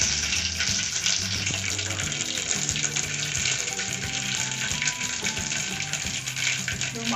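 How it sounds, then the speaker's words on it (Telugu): Cumin and mustard seeds frying in hot oil give a loud, continuous sizzle and crackle that runs steadily with no pause. "ఇది ఆయిల్ వేడైన తర్వాత దాంట్లో జీలకర్ర, ఆవాలు ఎక్కువ క్వాంటిటీ,"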